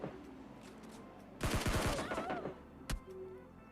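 Gunfire in PUBG Mobile Lite, a burst of rapid automatic shots crackling loudly for about a second, then a single sharp shot, over faint game ambience.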